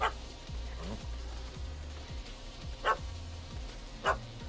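Barking from a puppy in The Witcher 3 video game: several short yaps and yips spread across a few seconds over a low in-game ambient hum, each bark fairly clear and moderately loud.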